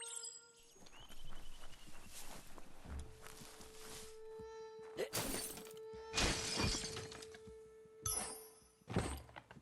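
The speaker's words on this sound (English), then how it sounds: "You shouldn't worry about smashing up the box." Wooden box being smashed apart in the Biomutant video game, with several sharp cracking breaks and thuds standing out over a steady game soundscape with tonal music.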